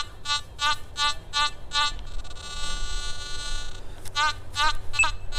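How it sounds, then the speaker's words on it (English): A metal detector sounds its ground balance beep: a quick series of sharp, evenly spaced electronic beeps, then a steady held tone, then more rapid beeps, all loud and close. "till I hear the beep telling me it's ground balance."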